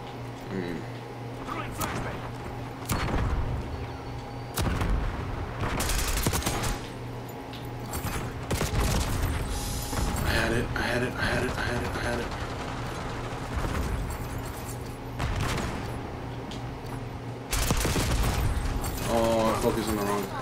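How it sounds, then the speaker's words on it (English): Bursts of AK-74 rifle fire in a video game, sharp repeated volleys scattered through the stretch amid game mechanics, with someone talking over much of it. "AK-74 has been. It's not been amazing."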